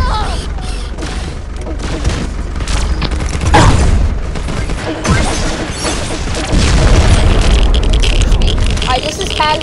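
Gunfire and explosions in the video game Pixel Gun 3D, dense and loud with repeated booming blasts and crashing impacts, mixed with game effects and talk over the top.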